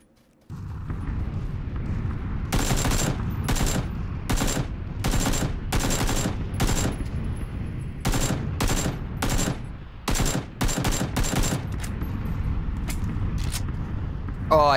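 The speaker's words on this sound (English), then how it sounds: "That's why I panicked and started shooting immediately." Gunfire in PlayerUnknown's Battlegrounds rings out in loud bursts of rapid automatic shots, separated by short pauses over a steady rumbling background, with no talking over it.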